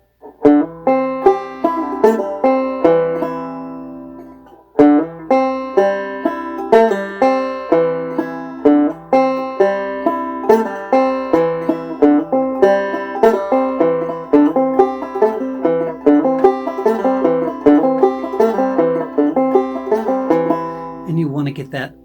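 A bluegrass banjo tune played alone and close, bright plucked notes in a steady rolling rhythm with hammer-ons and pull-offs, one brief pause partway through.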